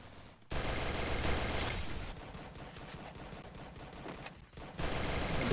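Rapid bursts of gunfire from a tactical shooter video game firefight, loud and sustained with dense overlapping shots, a brief lull near the start and another dip just before the end.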